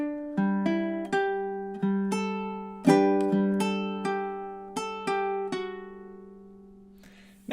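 Measures 5 and 6 of a summery fingerstyle ukulele melody played back to back: a steady run of about a dozen bright plucked notes, close and unaccompanied, the last note ringing out before fading.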